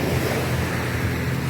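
Continuous roar of surf and wind on the wide beach at Playacar, Playa del Carmen, a loud, close wash without clear breaks between waves, with no voices.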